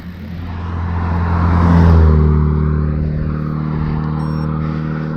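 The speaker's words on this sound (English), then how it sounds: "Right, I can hear a car." A car approaches and passes close on a country road during a cycling ride, its engine hum and tyre roar swelling to a peak and then fading as it moves away, with no talk.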